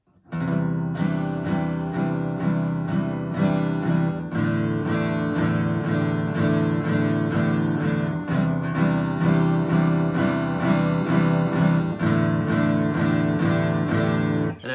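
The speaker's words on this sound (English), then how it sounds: "I was strumming literally every string on the guitar" An acoustic guitar strummed hard across all strings in a steady rhythm, full ringing chords repeating continuously for the whole stretch.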